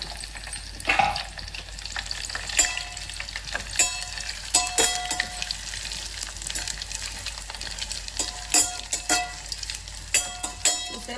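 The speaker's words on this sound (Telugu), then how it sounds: "ఇప్పుడు ఎండు మిరపకాయలు వేస్తున్నాం కొద్దిగా వేగితే మనకు కమ్మట వాసన వస్తుంది" Dry red chillies fry in a pan of hot oil with curry leaves for tomato chutney, crackling and sizzling close up. Sharp pops and stirring scrapes recur over a constant hiss.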